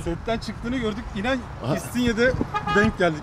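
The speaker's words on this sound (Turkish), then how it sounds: "Kusura bakmayın, korna çalıyorlar da ilerliyorum." Car horns honk in heavy traffic in İstinye, Istanbul, sounding in short toots behind close, continuous conversation between several people.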